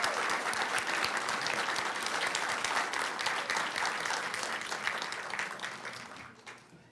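A school board meeting audience gives a big round of applause for a sixth grader and his parents, a full, sustained clapping that stays strong for several seconds and then fades away at the end.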